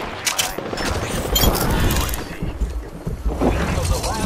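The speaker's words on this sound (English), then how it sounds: "I am taking fire, friends." Rapid automatic gunfire from the Apex Legends video game, dense bursts crackling almost continuously in the foreground while a player talks over the shooting.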